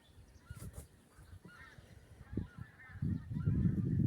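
Geese honk in flight, scattered calls sounding faint and distant over a low background rumble.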